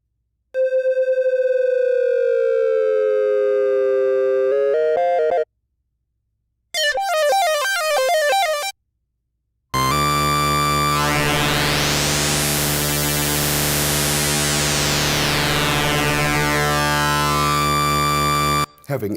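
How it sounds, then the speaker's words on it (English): A Moog Messenger synthesizer oscillator sweeps through triangle, saw and square wave shapes, heard as a sustained gliding tone, then a short burst of stepped notes, then a dense buzzing sweep, all loud with brief silences between. "you could sweep through the wave shapes, so triangle, saw, square"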